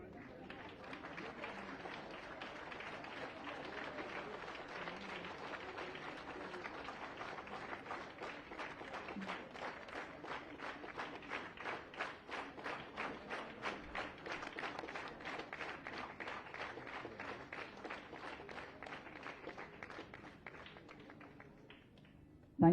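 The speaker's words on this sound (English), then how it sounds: "A big round of applause." Sustained audience applause fills a hall at a state formation day ceremony, dense and steady clapping from a large crowd lasting over twenty seconds, with a muffled voice faintly underneath.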